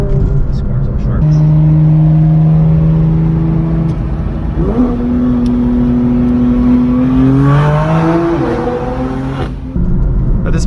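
BMW M4 F82 pulling hard in third gear on an open road, its engine note climbing and rising steadily in pitch, loud and close from inside the car, with a brief dip around a shift of load before revving on.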